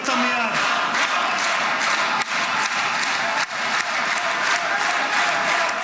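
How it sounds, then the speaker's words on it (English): Applause fills a parliament chamber, a dense, loud wash of clapping from the whole audience that holds steady for several seconds, with some voices mixed into the crowd noise. "The entire place starts applauding."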